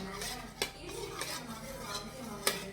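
A spoon scrapes and clinks against the pan, with two sharp metallic taps among the strokes, as a beetroot halwa mixture with cornflour is stirred; faint and close, no voices.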